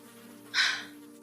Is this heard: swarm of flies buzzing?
yes